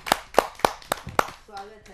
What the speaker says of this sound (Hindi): आप सबकी जोरदार तालियों से